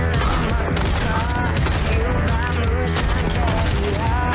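Rapid gunfire rings out in the VR rhythm shooter Pistol Whip, dense repeated shots layered over loud driving game music throughout, with a player's voice faintly mixed in.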